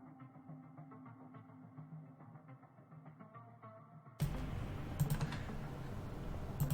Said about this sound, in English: I apologize now for my keyboard.